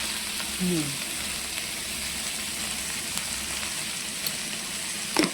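A soft, continuous sizzle of ground spice paste for a paneer dish frying in a pan, steady throughout with a brief low voice early and a faint clink near the end.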